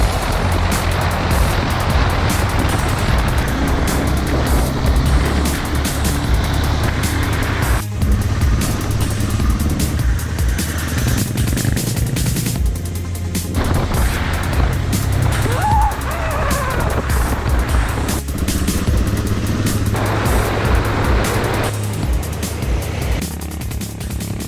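A motorcycle rides along a beach and dirt trails, a continuous loud engine and wind roar mixed with surf-like rushing, with a voice talking briefly over it.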